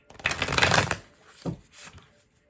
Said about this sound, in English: I haven't been shuffling my cards really good because I've been having a lot of pain in my wrist